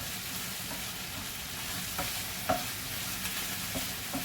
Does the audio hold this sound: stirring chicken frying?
yes